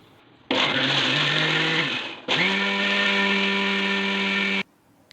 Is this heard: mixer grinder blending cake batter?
yes